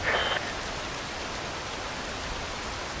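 Steady rain falls in the video game Metal Gear Rising: Revengeance, a constant loud hiss of drops with a brief brighter sound at the very start.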